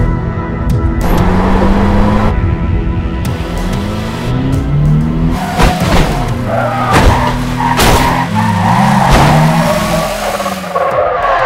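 A car pulls away hard with tires squealing and skidding, engine revving loudly through rising gear changes, close and intense over dramatic trailer music, with no speech.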